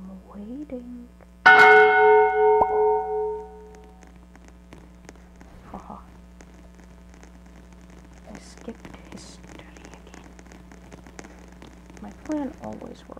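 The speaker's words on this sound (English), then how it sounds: "Is the bell gonna go?" A school bell rings in a Roblox middle school game, one loud bright ring that sustains and fades over a couple of seconds, with a few faint voices and sparse background sounds after it.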